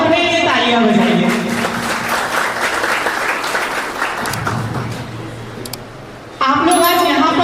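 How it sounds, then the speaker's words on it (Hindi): Seated audience at a talk clapping for themselves, a full burst of applause that rises under a speaker's voice, continues for several seconds, then fades before the voice resumes. "तो सबसे पहले आप अपने लिए तालियां बजाइए"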